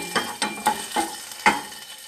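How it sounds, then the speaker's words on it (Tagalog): Food is stirred in a pan, a spoon scraping the metal in about five short, evenly spaced strokes, with a faint sizzle underneath, close and fairly quiet. "Let's mix."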